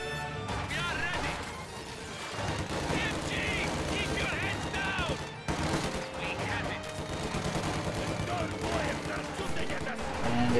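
Small arms and machine gun fire in a real-time strategy video game battle: continuous rattling bursts and sharp cracks over layered combat noise, with a loud impact near the middle, steady and busy throughout.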